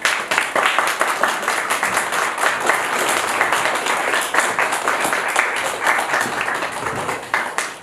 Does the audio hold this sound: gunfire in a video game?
no